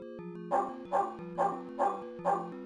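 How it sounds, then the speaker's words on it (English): A dog in the video game Shadow of the Comet barks five times at a steady rhythm over a game music background, moderately loud. "Oh, look at that dog."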